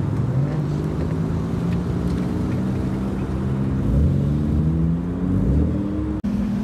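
A Toyota Supra drives past at the Daikoku car meet, a steady engine drone with a gradually rising pitch that stays loud and continuous throughout, joined by broad traffic and crowd ambience.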